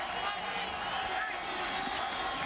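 Continuous roar of a college football stadium crowd during a tense fourth quarter between West Virginia and Connecticut in 2004, a dense steady wash of noise with a commentator talking over it.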